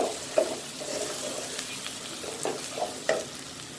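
Tomatoes tipped into browning onions in a pan for a bitter gourd masala, sizzling steadily under a spoon that scrapes and stirs with a few sharper clinks, close and fairly quiet, with no talking.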